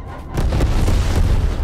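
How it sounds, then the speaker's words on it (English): A napalm strike detonates in the video game Black Ops Cold War, a loud, dense rumbling explosion that swells in after a brief quieter moment and rolls on steadily to the end. "napalm strike inbound."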